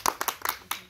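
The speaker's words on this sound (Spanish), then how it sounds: "¡Bravo! ¡Un aplauso!" Several separate hand claps at a small family gathering honouring mothers, sharp and close, with uneven gaps between them, like a few people clapping briefly.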